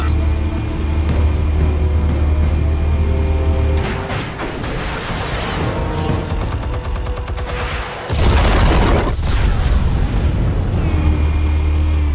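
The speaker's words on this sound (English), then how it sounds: "Explosives armed. Fire when ready." Explosives going off in the Telltale Batman video game: a loud, rumbling scene broken by a burst of booms and crackling debris, then a second heavy blast and a low rumble afterward.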